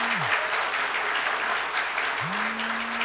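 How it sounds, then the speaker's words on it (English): Parents clapping at a primary school cultural extravaganza, a continuous full-room round of applause lasting a few seconds, even in loudness, with a faint low tone sweeping in underneath near the end. "Come on, parents, that's not an energetic applaud."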